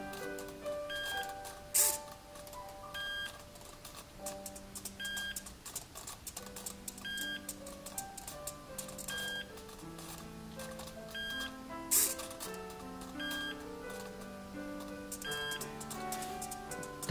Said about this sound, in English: The beeping is the goggles battery is getting low.